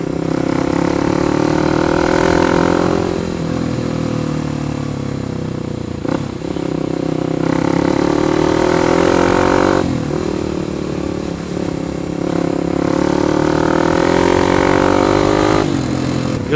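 A Kawasaki KLX 250 supermoto's exhaust drones steadily while riding, rising and falling in pitch through several throttle swells and gear changes, loud and close with wind rush.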